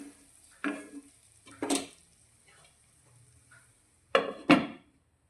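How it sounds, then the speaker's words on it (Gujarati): Tomatoes cooking in a covered pan for a green chili gravy curry, with a few separate stirring scrapes and clatters against the pan, each short and close, between quiet gaps. "આપણે થવા દઈશું અને વચ્ચે વચ્ચે થોડું હલાવતા રહીશું"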